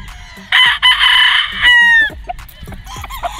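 A battlestag gamecock, a local banded rooster with a red wing band and straight comb, crows once loudly and close by, a long strained call lasting over a second that trails off, followed by soft background clucks and noise.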